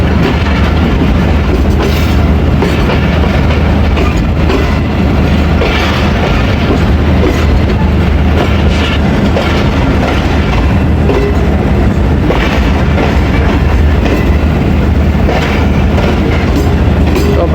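A passenger train rolls on a curve into Dina railway station, a loud continuous rumble and rattle of wheels on rails with rhythmic clatter throughout, with no talk.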